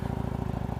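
Close, steady low rumble of an idling Harley-Davidson Street Glide Special motorcycle exhaust with a rapid pulsing beat, heard briefly with no talking.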